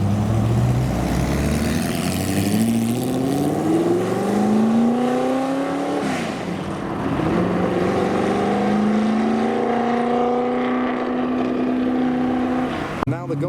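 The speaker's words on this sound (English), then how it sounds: "So there goes the NSX in quite a hurry" A Honda NSX sports car leaving the Brooklands New Year Classic gathering in a hurry, engine revving hard and climbing through two gear changes, loud and close, then holding a steady high pitch as it pulls away, with a sharp knock at the end.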